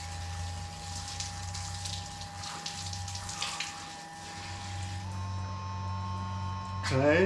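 A 12V pumped jerry can tap runs water at about four litres a minute, a steady close stream with a constant electric pump hum beneath it, splashing a little louder near the end.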